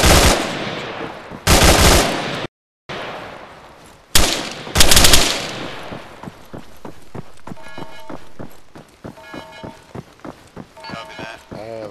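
M240 machine gun fire in ARMA 3 comes as loud, dense bursts, then gives way to rapid rhythmic volleys of single shots that carry on to the end.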